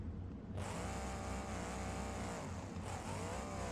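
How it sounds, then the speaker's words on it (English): A car engine screams at high, sustained revs in BeamNG.drive, its transmission over-revving, a constant strained whine that drops briefly and climbs again. "That transmission does not sound happy right now."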